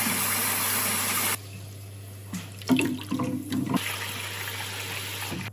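Tap water runs into a sink to soak a handmade clay pot before it is used for baking Cypriot lamb kleftiko. A steady, close gush is cut off, followed by irregular splashing and trickling.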